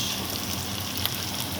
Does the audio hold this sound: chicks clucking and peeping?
no